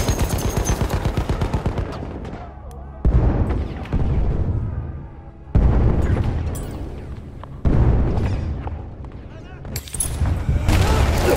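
Heavy booming blasts and rattling gunfire in the World War I shooter Battlefield 1, a grenade explosion among several loud impacts, with shouting voices over the battle noise.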